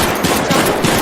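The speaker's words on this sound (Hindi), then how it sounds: "चारों एक साथ गोली चलाई।" Four men fire guns at a lion together in a Hindi cartoon story, producing a dense, loud rapid volley of overlapping gunshots that lasts about a second, close and alone.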